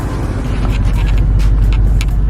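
A Box Chevy with a battery delete and welding-cable wiring idles with its engine running, a steady low rumble, loud and close, with faint clicks and ticks above it and no talking.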